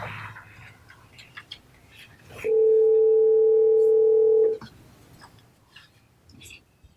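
A telephone dial tone hums steadily for about two seconds as a call is placed from a town zoning board meeting room, a clear sustained tone rising out of quiet room murmur and then cutting off.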